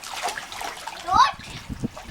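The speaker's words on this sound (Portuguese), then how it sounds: "Pula assim, ó, Angel." A child jumps into a backyard swimming pool, making a short splash midway through, while an adult coaches aloud nearby with bits of kid chatter and water trickling.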